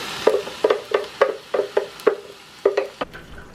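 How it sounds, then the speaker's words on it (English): Chicken and onion cooking together in a pan for Mexican molotes, stirred in a steady series of about eight sharp, evenly spaced spatula strokes over a faint sizzle, close and fairly loud. "Turn it around a little bit, let it cook with the onion before I put my sauce in."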